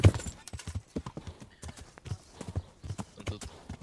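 Horse hooves clip-clopping in the video game Kingdom Come: Deliverance, a steady rapid walking rhythm of sharp hoof strikes in a narrow space, close and clear, with a faint whinny early on and no talk.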